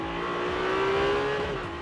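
A Ferrari 296 GTB engine revs steadily at high pitch, loud and close, its tone rising slightly and then easing off.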